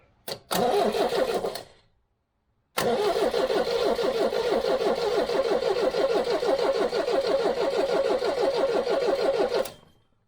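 A 1969 MGB's starter motor cranks the engine, first in a short burst, then after a pause in a long, loud, rhythmic churn lasting about seven seconds before it stops.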